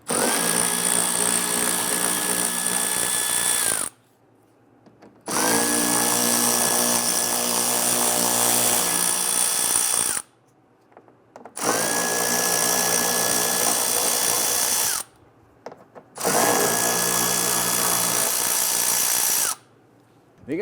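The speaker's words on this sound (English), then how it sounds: "Once you have that out, let's go ahead and remove the other screws." A power drill whirs in long, steady bursts, pausing briefly between runs, as screws come out of the bumper trim on a 2011–2019 Ford Explorer; close and loud, with no talk.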